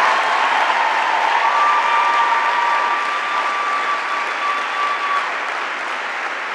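Steady, dense applause fills a lecture hall after honoring a Supreme Court justice and an actress at an annual arts policy lecture, loud and sustained throughout with a faint tone running beneath.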